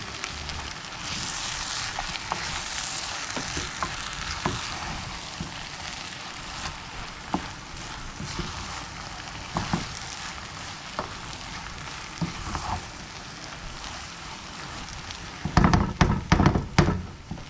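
Flour browning in a pot for beef chili, a soft crackling sizzle running throughout, with scattered scrapes and a cluster of louder stirring clatters near the end, and no talking.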